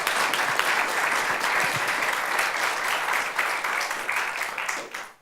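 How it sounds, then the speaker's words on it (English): An audience at a rural-themed panel discussion applauds the panelists with sustained, even clapping that holds strong throughout and tapers off at the very end, with no speech over it. "can we give our panelists a round of applause?"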